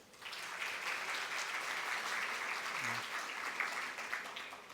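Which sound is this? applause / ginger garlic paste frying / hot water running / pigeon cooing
applause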